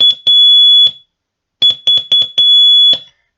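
Morse code letter Ж keyed as a clean, steady high-pitched tone: one long beep, a pause, then three quick dits followed by a long dah, with no voices.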